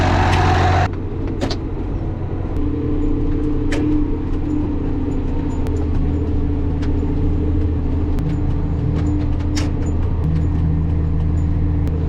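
Heavy farm truck engine rumbling steadily at a harvest field, a constant low drone close by with faint clanks, no talk.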